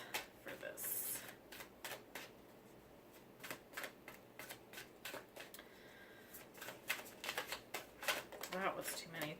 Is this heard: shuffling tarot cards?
yes